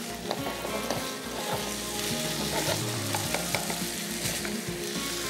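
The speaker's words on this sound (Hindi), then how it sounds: "चलें, चिकन भुन जाएगी हमारी" Chicken pieces fry in a pan for katori chaat, a loud, steady sizzle with crackles and occasional stirring clatter throughout.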